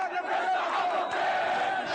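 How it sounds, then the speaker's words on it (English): A large crowd of Gaza protesters chanting against Hamas and the war, a dense continuous roar of many voices heard at some distance, unbroken for the full two seconds. "the masses chanted to end the war, demanding the release of Israeli hostages"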